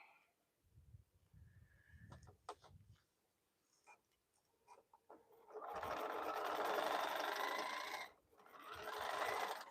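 A Bernina sewing machine stitches a quilted bowl cozy in two bursts, a steady close whirring hum after several seconds of soft handling clicks and low thumps, stopping briefly before running again.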